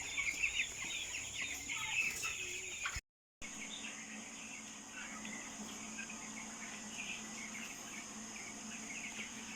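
Broiler chickens about eighteen days old, crowded in a farm house at night after feeding and watering, giving soft continuous clucks and chirps with occasional louder calls, steady throughout apart from a brief dropout.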